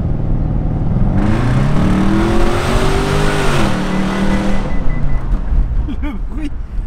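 A loud Cadillac engine roars and climbs in pitch, revving hard close by, then fades as voices break in near the end.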